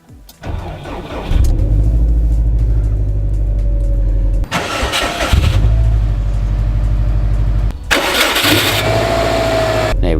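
Subaru WRX wagon engine starting up: a starter crank, then the motor catches and settles into a raised, steady cold-start idle, with a couple of brief revving surges and some background noise between.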